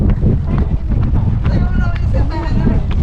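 Strong wind roars over an open lake, buffeting the microphone with steady low rumbling, while people talk over it.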